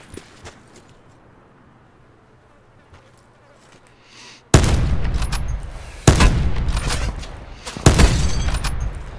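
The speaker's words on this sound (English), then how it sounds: "Two shots with the sniper, bro." Sniper rifle shots ring out in Call of Duty Blackout: after a quiet stretch of faint ambience, three loud, booming cracks land a second or two apart, each with a lingering echo.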